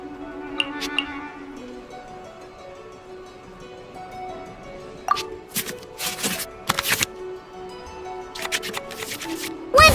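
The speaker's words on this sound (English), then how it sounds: "we can select any number of cards in our hand to shuffle back into the draw pile" Cards being shuffled back into the draw pile in the Genshin Impact Genius Invocation TCG card game: quiet soft tones first, then bursts of crisp card-riffling swishes and clicks in quick clusters, fairly close and without talk.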